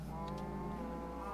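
Cattle on a farm in a video game low mooing, a single drawn-out call, close and steady over a constant background hum.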